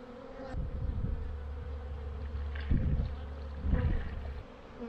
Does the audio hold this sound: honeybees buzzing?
yes